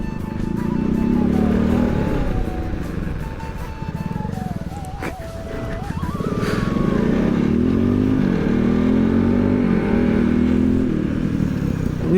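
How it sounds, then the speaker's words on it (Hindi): A motorcycle rides off-road over a broken rural road beside fields, its engine close and loud throughout, dipping and then revving back up, with clattering from the bumpy surface. "उसकी वजह से अपनी ऑफ रोडिंग हो रही है बाइक से"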